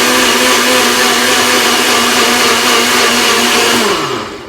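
A kitchen blender whirs steadily at full speed, mixing a liquid mixture with no ice until frothy, loud and continuous before winding down at the end.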